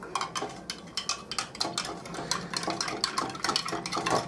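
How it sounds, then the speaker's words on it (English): A metal spoon stirs a US Army MRE powdered ration drink mixed with about 12 ounces of water, giving a run of quick, close clinks and scrapes against the container with a steady rhythm and no voices. "I think I'm going to use our spoon to give it a stir."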